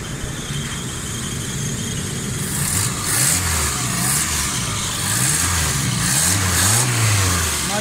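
A Suzuki Alto 1000cc car engine revs up and down repeatedly, close and loud, with rising and falling pitch sweeps over a steady broadband roar and hiss.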